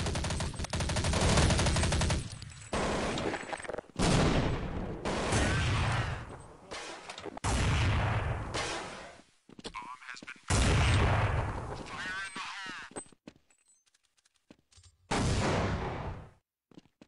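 Gunfire in the video game Counter-Strike 1.6 comes in loud, sharp bursts of rapid shots separated by short pauses, with quieter gaps and a final burst near the end.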